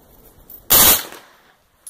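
Machine gun fired at an outdoor shooting range, a single loud close burst lasting a fraction of a second and fading into a short echo.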